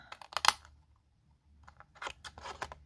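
Scissors snip through paper for a small Easter box, a quick cluster of crisp cuts, a pause, then another run of snips, close and clear with no talk.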